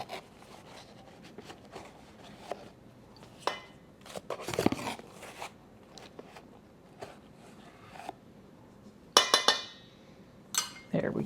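Baking powder and baking soda being mixed and sifted together in a bowl for cornbread, with soft scraping and rubbing strokes, occasional clinks of a utensil, and a sharper rattling burst toward the end, close and quiet.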